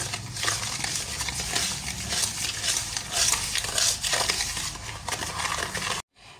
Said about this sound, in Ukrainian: Е, додаю ванільний цукор. Перемішуємо.